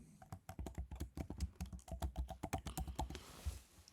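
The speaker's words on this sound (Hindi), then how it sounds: "मैं एंटर के बटन को प्रेस करूँगा तो मेरा वेरिएबल क्रिएट हो गया।" Rapid typing on a computer keyboard while creating variables in SmartPLS 4 software, with a dense run of close, crisp key clicks and a few heavier presses like the Enter key, with no talking.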